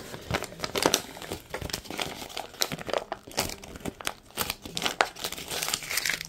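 A wrapper is crumpled up close, giving dense crinkling and crackling bursts that continue throughout with no talking.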